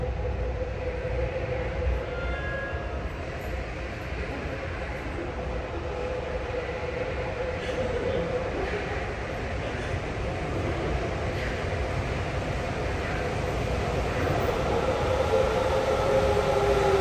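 A Sapporo subway train pulling into Asabu Station bound for Makomanai, a continuous low rumble and hum that slowly builds in loudness, with faint squeals and rattles over it.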